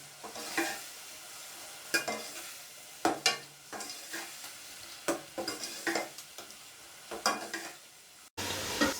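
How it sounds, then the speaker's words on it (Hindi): Beef browning in a pot of spice paste for degi biryani, stirred in repeated scraping strokes over a steady sizzle, with sharp clanks of the spoon against the metal pot. "2 मिनट हम गोश्त को भी भून लेंगे।"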